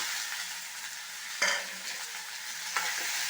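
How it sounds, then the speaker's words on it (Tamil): Chopped ridge gourd sautéing in a pan with a handful of coriander leaves, a steady close sizzle and frying hiss throughout, with two brief louder stirring scrapes, no talk. "நல்லா வதக்கிக்கோங்க."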